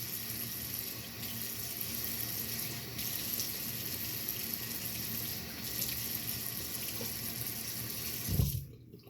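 Tap water runs steadily into a sink while a beard is rinsed under it, a continuous close splashing flow that cuts off abruptly near the end, with no talking.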